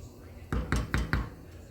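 A spoon knocks against a pot of egg noodles being stirred, four quick, close, fairly evenly spaced clanks in an otherwise quiet kitchen.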